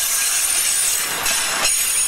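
A railroad wagon rolls past loudly and close, with broad hissing wheel noise and a couple of sweeping squeals, continuous throughout with no talking.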